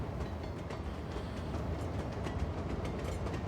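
Train in the Cities Skylines 2 city-building game rumbles steadily and loudly, a continuous low roar with faint rhythmic clatter of wheels on track and no talking.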